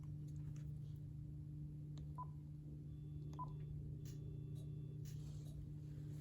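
A Panasonic K-TG4021 cordless phone sends a few quiet, separate touch-tone dialing beeps during a call-blocking test, each beep brief and spaced apart over a steady low electrical hum.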